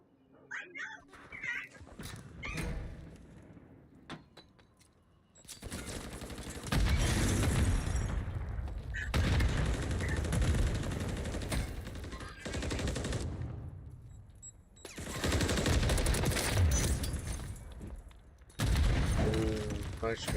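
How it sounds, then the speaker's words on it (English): Gunfire bursts and a grenade explosion in the video game Warzone come in loud waves separated by quieter stretches, with voices talking over the action. "Nice grenade."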